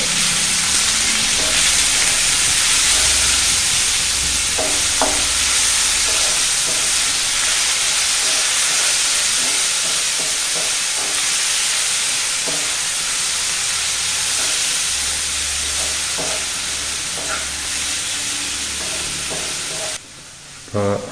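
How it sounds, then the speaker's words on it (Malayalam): Onions for a coffee-house style masala dosa filling fry in a pan with salt, giving a continuous loud sizzle and steamy hiss, with occasional soft stirring clicks and scrapes, close and steady until a brief drop near the end. "സവാള ഒരുമാതിരി വഴന്ന് കിട്ടിയിട്ടുണ്ട്."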